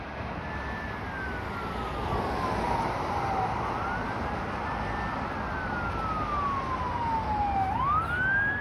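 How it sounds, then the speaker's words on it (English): A fire truck siren wails along Yonge Street in Toronto, its rising and falling sweeps sliding and then swooping up sharply as it nears, loud over steady city traffic rumble. "Oh, that's the fire truck."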